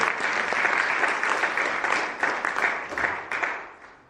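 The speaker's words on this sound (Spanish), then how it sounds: "Si ese aplauso es para mí está bien, pero si es para Cristo, déselo fuerte" A church congregation breaks into sustained, dense applause that fills the space at a steady level, a few sharper claps standing out, before the clapping thins and fades away toward the end.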